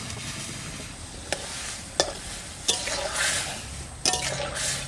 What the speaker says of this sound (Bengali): জল গরম হয়ে গেছে, এবার ডাঁটা আর আলু দিয়ে দেবো।